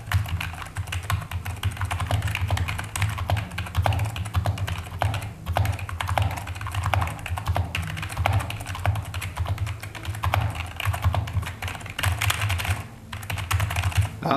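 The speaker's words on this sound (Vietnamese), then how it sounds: "các bạn có thể nghe thấy đó là tiếng kịch kịch khá là giống với lại Brown Switch" Steady, continuous typing on a Fuhlen G500S membrane keyboard, dense clattering keystrokes heard close up and alone for the whole stretch.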